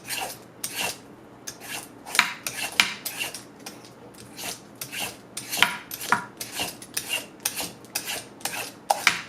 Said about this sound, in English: It just peels so easy because you don't have to go around the vegetable